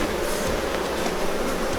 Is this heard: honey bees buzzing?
yes